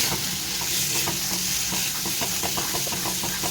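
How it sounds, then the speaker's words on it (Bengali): Shrimp and yardlong bean paste being stirred and fried in a pan, a steady close sizzle with a soft, continuous scraping of the spatula running underneath. "আর এটা মিক্স করে কিছুক্ষণ ভাজবো"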